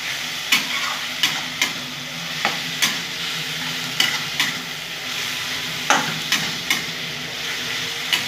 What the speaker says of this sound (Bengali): ভালো করে নেড়ে নেবো, পেঁয়াজটা দিয়ে ভালো করে কষিয়ে নেব।